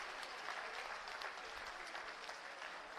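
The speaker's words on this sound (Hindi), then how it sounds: "एक बार सभी हाथ ऊपर करके जोरदार तालियों से अभिनंदन करें" Audience clapping steadily at the inauguration of a new school block by an education minister, a dense, continuous wash of applause from a sizable crowd with no voices standing out.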